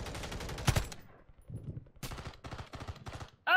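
Gunfire in the Call of Duty video game, with sharp loud shots in quick bursts, some separated by brief pauses, and a final loud shot at the end.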